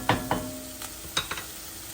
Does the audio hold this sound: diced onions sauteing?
yes